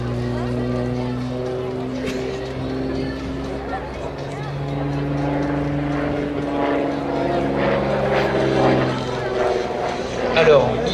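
A Beechcraft Baron 55 twin-engine aircraft flies aerobatic barrel rolls at an air show, its steady droning engine hum sustained throughout with shifting pitch as it maneuvers, while a commentator talks over a loudspeaker.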